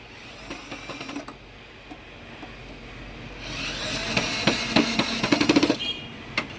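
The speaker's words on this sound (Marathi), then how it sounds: "ही जी स्क्रू टाईट करायची मशीन आहे ही फक्त आमच्याकडेच मिळते" A screw-tightening machine on a seed-sowing token machine runs in bursts of rapid mechanical clicks and clattering, building to a dense rattling stretch near the end.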